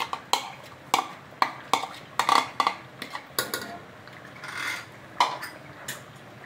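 A spoon stirs chicken korma gravy in a pot, giving a run of sharp metallic clinks and scrapes at an uneven rhythm, close and moderately loud with no talking.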